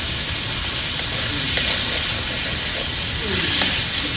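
Ginger stir-frying in hot oil for a soy sauce dish, a continuous loud hissing sizzle with faint scraping of stirring mixed in, close up and without talk.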